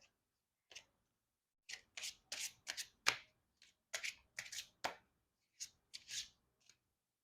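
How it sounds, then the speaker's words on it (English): Deck of oracle cards being shuffled by hand in quiet surroundings, heard as a series of short, crisp riffling bursts with brief pauses between them, close and soft. "Let's pull some oracle cards."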